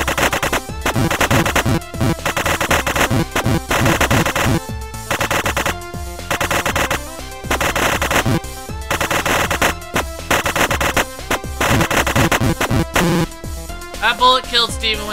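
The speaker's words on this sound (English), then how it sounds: "A machine gun!" Rapid machine-gun fire from the video game Super Amazing Wagon Adventure rattles in loud, dense bursts throughout, with short pauses between volleys and a change in texture near the end.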